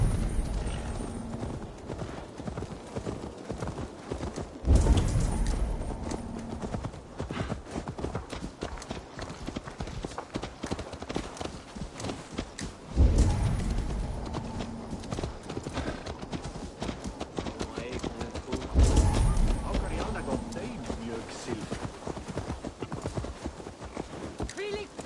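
Steady clip-clop of horse hooves in Assassin's Creed Valhalla, rhythmic and fairly close, with game music and occasional low thumps underneath.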